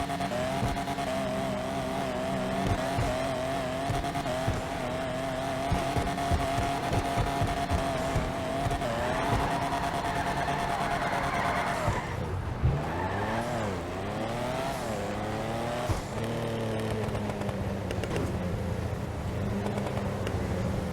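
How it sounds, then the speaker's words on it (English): In GTA Online, a Benefactor Stirling GT's engine drone holds for several seconds, then rises and falls through quick revs and shifts, accelerating hard with a whooshing turbo. "We're gonna listen to the exhaust sound again and see what the turbo sounds like"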